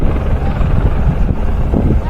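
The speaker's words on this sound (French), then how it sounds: "l'hélicoptère il va poser le sac" A helicopter resupplying a high-mountain refuge gives off a loud, steady rotor and engine roar, with wind buffeting the microphone throughout.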